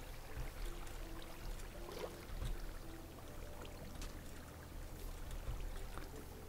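Flowing water in the game Minecraft, a faint continuous rushing and trickling wash with small splashy pops, steady throughout and with no one talking.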